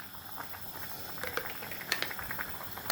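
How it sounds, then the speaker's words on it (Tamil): Liquid bubbles and pops softly in a pot, scattered faint blips that grow a little busier, with no voices. "பாருங்க நல்லா கொதிக்குது இல்லை"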